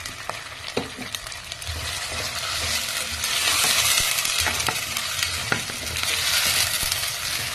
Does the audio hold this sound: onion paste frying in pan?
yes